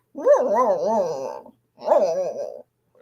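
A human voice imitating a dog's whine: two drawn-out, wavering, nasal whimpers, the first longer, separated by a short silence, close and clear.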